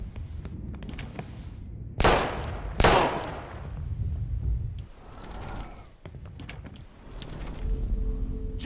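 Gunfire in the video game Life Is Strange: two loud sharp shots close together, followed by quieter scattered clicks and rustling with a low rumbling game background.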